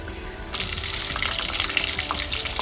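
Chicken pieces for Styrian fried chicken are laid into very hot oil, setting off a sudden, dense crackling sizzle that holds steady and loud with scattered pops and spatters.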